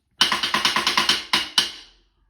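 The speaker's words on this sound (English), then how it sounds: "What you also can do is play on the rim," A drumstick plays on the metal rim of a snare drum, giving a quick series of bright, ringing clanks, then two louder single strikes that ring out briefly before fading.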